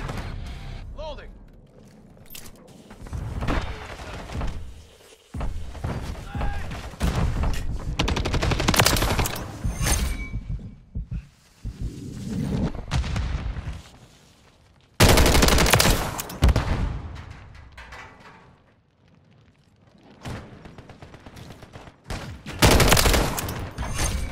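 Light machine gun fire in Modern Warfare 3, a DG58 LSW in a 10v10 match, rattles in loud sustained bursts with brief gaps, mixed with other gunfire and game noise, while a voice talks over much of it.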